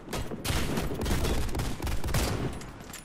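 Rapid automatic gunfire in the video game Warface, a dense continuous burst of close shots sprayed blind for about three seconds, loud and sharp with no talking.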